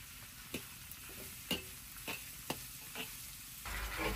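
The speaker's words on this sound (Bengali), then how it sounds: "এবার প্রথমেই আমি কড়াইতে দিয়ে দিলাম তেল, সাথে দিলাম পেঁয়াজ মরিচের কুচি।" Chopped onion and chili sizzle in hot oil in a wok, a soft steady frying hiss broken by sharp clinks and scrapes of stirring at irregular moments, with the sizzle swelling louder near the end.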